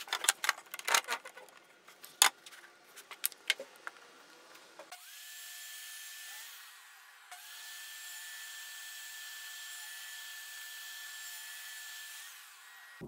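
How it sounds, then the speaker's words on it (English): A saw fitted with a flat-top grind blade cuts dados in scrap wood: a few sharp, rasping cutting bursts come first, then a steady, high whine as the blade spins for several seconds. "I switched out to a flat top grind blade here to make a clean dado"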